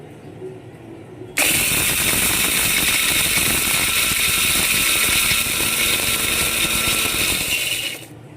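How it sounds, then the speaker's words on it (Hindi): A small electric grinder with a little jar whirs on abruptly, grinding chillies with a loud, steady high whine for several seconds before cutting off. "और यहाँ पर मिर्ची पीस लेते हैं।"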